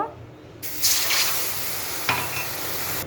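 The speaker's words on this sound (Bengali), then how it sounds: "গরম জল করা ছিল, দিলাম" Hot water poured into a pan of roasted semolina with coconut and cashews: a sudden loud hiss and bubbling surge as the water hits the hot pan, then a sustained, boiling sizzle with a second splash partway through, close and without talk.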